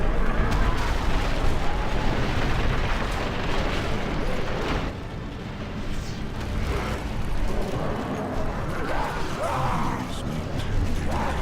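Rocks hurled at enemy units in Battle for Middle Earth, heavy booming impacts and crashes layered over rumbling battle noise, dense and loud throughout with a brief dip midway.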